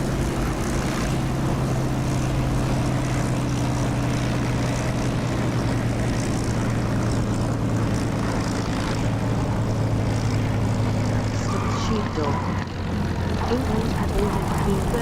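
Propeller aircraft engine in the DCS flight simulator with the throttle gradually pulled back, a steady droning hum with tonal bands that ease lower, continuous and fairly loud.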